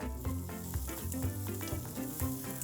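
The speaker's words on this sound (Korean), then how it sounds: "불을 켜주시고, 이 상태에서 북어를 바로 넣으세요" Soaked dried pollack stir-frying in sesame oil in a pan for a hangover ramen, with a loud, close crackling sizzle and rhythmic scraping strokes of a utensil stirring throughout.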